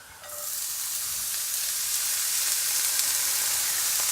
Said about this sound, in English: let's toss in the veggies here. This pan should be about hot and ready to go